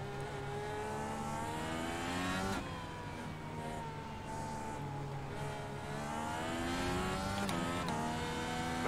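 Race car engine at full throttle in the iRacing video game, a steady high-revving drone with rising pitch sweeps through gear changes, sustained and fairly loud throughout.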